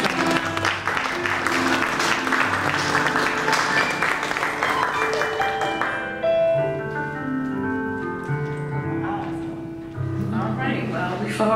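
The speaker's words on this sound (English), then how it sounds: "Also give the families an applause." Audience at a humanitarian awards gala claps for honorees' families, the applause blending with music that carries on as the clapping thins out.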